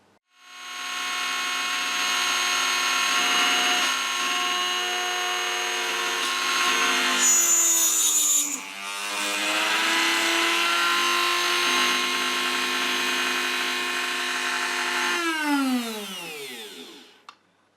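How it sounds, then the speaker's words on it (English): A small electric drill whirs steadily at close range, boring a hole in the roof of a metal model police car, its pitch dipping briefly midway, then spinning back up before winding down. "drill a hole in the top of the police car, to take the light"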